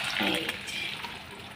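Water poured into a pan of cooking peas, a short, faint splashing pour that is strongest at the start and then fades to a soft trickle.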